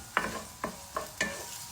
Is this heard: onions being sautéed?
yes